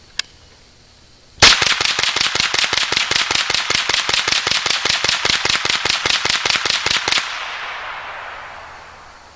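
A Ruger 10/22 rifle fed from a 30-round magazine fires rapidly after a single opening shot, about thirty sharp, evenly spaced cracks in a loud continuous string, then stops and a ringing echo fades out.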